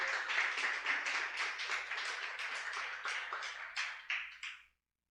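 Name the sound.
audience applause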